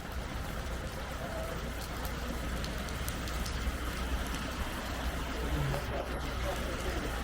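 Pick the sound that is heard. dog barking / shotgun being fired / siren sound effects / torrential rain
torrential rain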